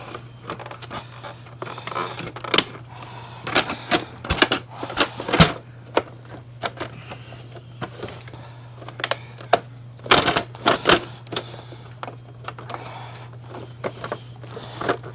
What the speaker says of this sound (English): Shell, you just kind of want to clip it in place.